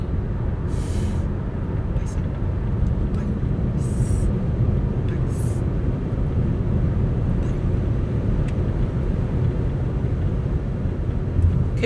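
A 2026 Toyota bZ4X electric car accelerating on a highway past 140 km/h, heard as a loud, steady road and wind roar filling the cabin without break.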